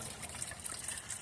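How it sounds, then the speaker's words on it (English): Water from a homemade garden waterfall built from a fountain top trickles and splashes in a steady, soft, continuous wash, close by and unbroken, with no voices. "So I put them all together and created my own waterfall."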